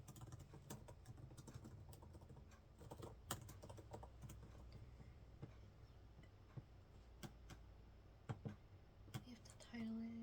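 Soft, quiet clicking of fingers typing on a computer keyboard in an irregular patter, close-miked in a low-key ASMR study setting.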